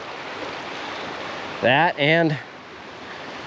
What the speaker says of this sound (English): You got all the fast water there and slow water there.